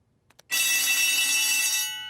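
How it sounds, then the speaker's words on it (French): A school fire alarm bell in a Caillou cartoon starts after a couple of faint ticks and rings continuously, loud and shrill, for well over a second before cutting off. "Nous avons entendu l'alarme."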